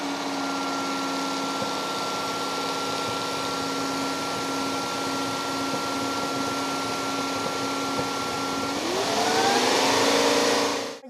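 An ILIFE W90 wet floor vacuum cleaner runs with a steady, loud motor hum and a constant whine, then its pitch sweeps upward near the end as the motor speeds up before cutting off.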